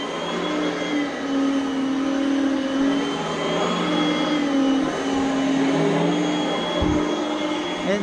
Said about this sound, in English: It's nice and self-propelled on a little bit self-propelled on the carpet.